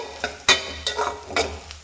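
Grated coconut fries in a tempering of oil with a soft crackle in a pan, punctuated by several sharp scraping stirs of a spoon, with no voices.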